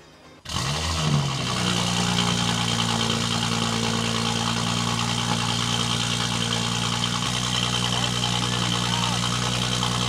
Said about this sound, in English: First cold start on this brand new IE exhaust. Let's hear how it sounds like.